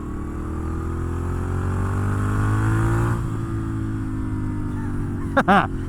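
A Griso motorcycle engine drones steadily up close, its pitch climbing then settling, followed by a couple of sharp revs near the end.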